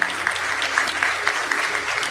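A church audience applauds steadily, a dense wash of many hands clapping at moderate distance with small swells and no voices standing out.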